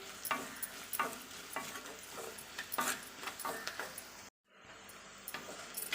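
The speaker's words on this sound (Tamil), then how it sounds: "அதனுடைய வாசனை, பச்சை வாசனை போகிற அளவுக்கு நம்ம நல்லா பூண்டை வதக்கிக்கலாம்" Crushed garlic sautéing in hot oil for an eggplant fry, a steady close sizzle broken by regular stirring scrapes and clinks of a utensil against the pan, with a brief dropout near the end.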